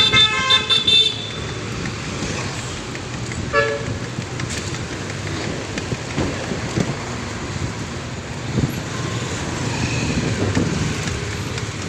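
A tricycle passes along a road amid traffic, with short horn toots near the start and a steady motor and road rumble continuing underneath, moderately loud and close.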